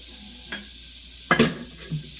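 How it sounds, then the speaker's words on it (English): Onions and cilantro saute in oil with a soft steady sizzle, broken by a few close scrapes and clanks of a utensil against the pan, the loudest one coming about midway, with no voices. "we're sauteing the onions here, and also the cilantro"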